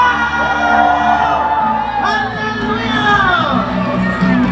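Large crowd at an outdoor praise and worship gathering at a grandstand shouting and cheering together, loud rising whoops and yells over a continuous roar, with voices calling out over it.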